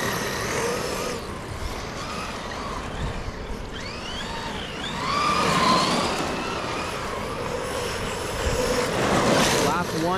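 Two electric RC cars, a Traxxas E-Revo and a Rustler 4X4 VXL, racing on an outdoor track, their motors whining and rising and falling in pitch as they pass, with busy rumbling background noise and voices talking throughout.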